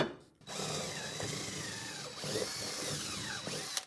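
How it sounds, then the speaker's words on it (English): Power drill boring a hole, starting with a brief pause then running steadily at close range for about three seconds, the pitch sagging slightly as the bit bites in. "Let's drill a hole and just make sure."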